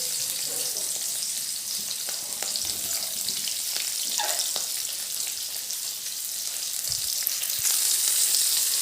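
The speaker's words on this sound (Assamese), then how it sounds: "ফাৰ্ষ্টে পিঁয়াজখিনি ফ্ৰাই কৰি ল'ম এয়া মই কেৰাহীত পিঁয়াজখিনি দি দিছোঁ" Onions fry in oil in a kadai, with a dense, continuous sizzle up close and occasional small clicks from stirring. No one speaks.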